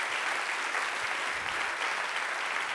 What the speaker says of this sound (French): On va les applaudir tous les trois